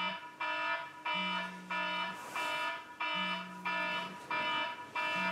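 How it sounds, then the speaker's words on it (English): An alarm clock sounds a loud, repeating electronic beep pattern in short pulsed bursts, each group separated by a brief gap and alternating with a lower tone, persistent and close. "This is what JCPS high school students wake up to, the sound of the annoying alarm"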